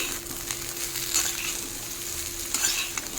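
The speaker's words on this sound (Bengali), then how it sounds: "ডাঁটাটাকেও খুব ভালো করে সঙ্গে ভাজতে থাকবো।" Drumstick (sajna) pieces frying with potato and eggplant in a pan, a steady close sizzle with two brief scraping stirs, no voices.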